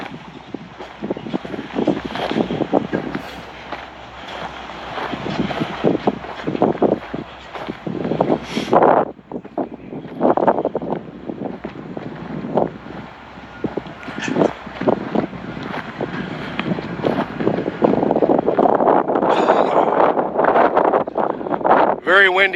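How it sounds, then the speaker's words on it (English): Strong wind buffets an outdoor microphone on a high lookout, producing loud, rough rumbling gusts that swell and fade throughout, with a voice talking in between. "Very windy today. I apologize if the sound is bad."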